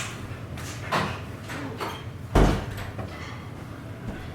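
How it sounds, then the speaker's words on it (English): A door is closed nearby in a home where a dryer is running, with a few sliding and rattling knocks leading to one loud thud partway through, then quiet room noise. "Let me close that door."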